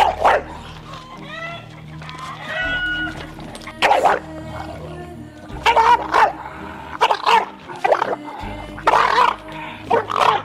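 An English Bulldog barks repeatedly in short bursts, close and loud, with some higher whining yelps early on between the barks.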